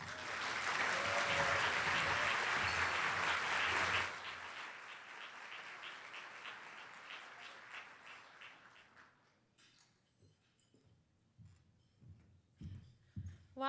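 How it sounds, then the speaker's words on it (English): Applause from an audience at a live-streamed event, loud and full for about four seconds, then thinning into scattered claps and a few cheers that taper to near quiet before some last close claps. "can we please give them a big round of applause?"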